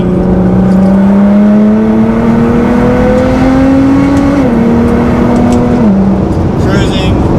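A Nissan GT-R drives at high speed with a loud, steady engine drone heard up close. Its pitch climbs slowly, then drops in two steps, with a constant roar of wind and road noise underneath.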